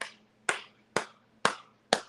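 Five sharp claps from a sound effect, evenly spaced about half a second apart, each crisp and close with a quick decay against a quiet hum.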